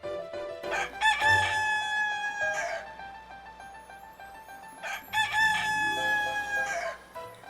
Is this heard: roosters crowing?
yes